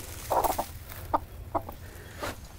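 Several short clucks from a hen settling onto her clutch of eggs during a farm animal lesson, coming in spaced bursts at moderate volume with quiet pauses between them.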